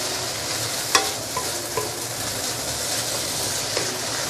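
Rice noodles for char hor fun stir-fry in a wok, with a continuous loud sizzle broken by a few sharp scrapes and taps of the spatula against the pan.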